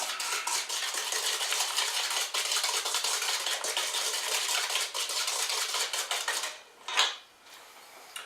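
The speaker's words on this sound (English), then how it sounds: "It's a little bit liquidy, so I can use the whisk now." A whisk beating liquidy pumpkin loaf batter in a bowl, rapid continuous clattering strokes close up for several seconds, then a brief pause and a softer final scrape.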